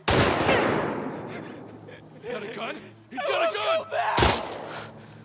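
A gun in The Last of Us Part 2 fires one loud, close shot at the start and another sharp blast near the end, with tense voices shouting in between.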